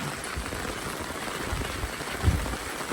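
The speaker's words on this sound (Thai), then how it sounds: "เมื่อนี้ฝนตก ทั้งฝนทั้งลมเนาะ" Rain falls steadily, with wind, over farm fields at night, making a continuous, even hiss at moderate volume, with one faint thump late on and no one talking.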